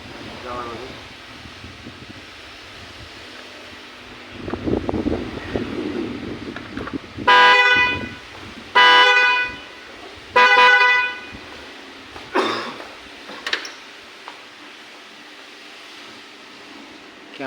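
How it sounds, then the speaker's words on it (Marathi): Honks from a vehicle horn sound out during a mechanic's repair of a friend's scooter, coming as several loud, sustained blasts in a stop-start rhythm, with shorter toots after them, over faint background noise. "क्या बजा हॉर्न।"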